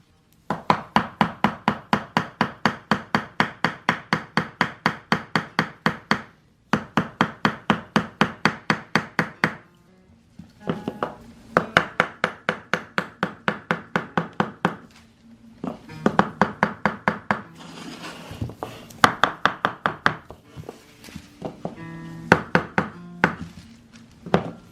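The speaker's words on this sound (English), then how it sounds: "So now we'll just gently tap it in the entire length of it" Pergo Timbercraft laminate flooring planks are gently tapped into place along their full length, dozens of quick, evenly paced knocks in long bursts with short pauses, close and crisp, growing more irregular toward the end.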